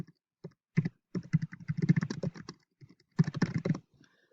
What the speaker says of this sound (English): I'll type in a topic.